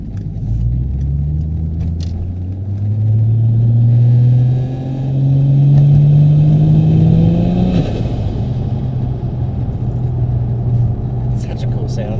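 A 1000HP turbocharged Barra car engine on 20-inch wheels with stretched tyres rumbles low and steady, rising in pitch through a long rev that peaks and drops back, then settles to an idle, with faint voices underneath.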